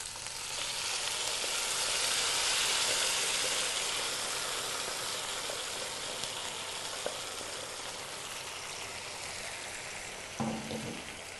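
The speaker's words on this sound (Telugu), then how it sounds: "ఇప్పుడు ఇందులో మనం ముందుగా ఉడికించి పెట్టుకున్న ముక్కలు వేసుకోవాలి చిక్కుడుకాయ ముక్కలు అలాగే వంకాయ ముక్కల్ని" Pieces of brinjal and broad beans sizzle in hot oil for a Telugu curry, a continuous soft frying hiss close by with a brief clatter near the end.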